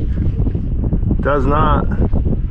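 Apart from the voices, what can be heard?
wind blowing outdoors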